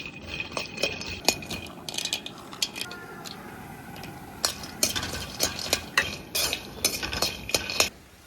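Ingredients for a traditional pornam sweet are stirred and dry-roasted in a pan, with steady scraping and rattling strokes that turn quicker and busier toward the end.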